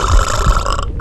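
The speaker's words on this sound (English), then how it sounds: "causing hers to burp loudly" One loud, close burp rumbles for about a second before cutting off abruptly.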